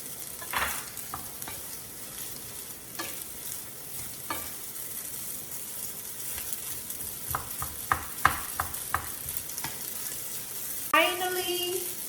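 Shrimp and pasta frying in a pan with a steady sizzle, while a utensil stirs and scrapes in scattered knocks up close, plus a brief squeak near the end and no talk.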